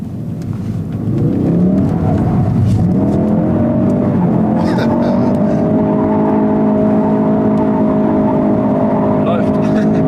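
A 2016 Ford Focus RS rated at 350 PS is floored in first gear to start a drift, its engine note climbing and holding loud and steady with harmonic drone, a voice talking over the roar.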